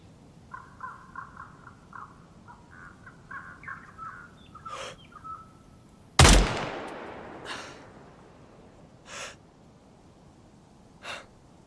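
A single loud gunshot in the survival video game DayZ cracks out sharply mid-clip and decays over a couple of seconds, among chirping crow-like bird calls and a few fainter distant pops.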